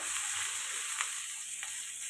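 Ghee frying in a pan while a sweet is made at home, giving a steady bright sizzle throughout with a few soft crackles, close and fairly quiet, with no talking.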